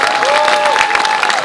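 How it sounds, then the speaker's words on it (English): Brief burst of audience applause and cheering for first-time actors at a film screening in London, loud dense clapping with a sustained tone running through it. "Give them a big round of applause."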